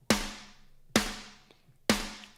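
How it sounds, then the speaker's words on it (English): Three evenly spaced hits from a Yosh Drum Warehouse drum sample with the room mic added each strike crisply and ring out into a fuller, roomier decay, with no voice over them. "But then I can add the room to it."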